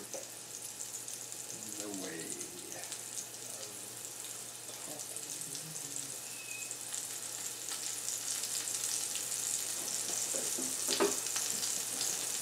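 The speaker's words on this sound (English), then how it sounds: "Cooking a burger." A burger sizzling in a pan, a steady soft frying hiss running the whole time with faint clatter and a few quiet voice fragments.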